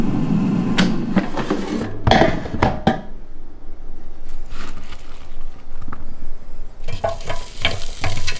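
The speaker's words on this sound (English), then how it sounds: "now we're gonna put in the fries" Homemade garlic french fries tipped into an air fryer preheated to 300 degrees, with a loud clattering rustle, then quieter scraping and shuffling, and a final burst of rattling and bumping close by.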